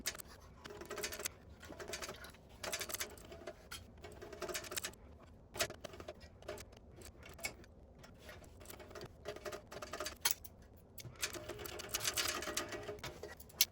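A sewing machine stitches a tote bag in rapid ticking bursts, running steadily and pausing briefly between runs, fairly quiet and close, with no speech.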